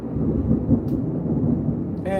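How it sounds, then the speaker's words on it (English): A low rolling rumble of thunder sustained for a couple of seconds, loud and heavy, with a brief higher noise at the end. "that was the thunder and lightning both"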